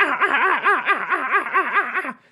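A human voice imitates a raven's laughing caw: about ten quick, rhythmic, rising-and-falling croaks in a steady run, loud and close, trailing off at the end.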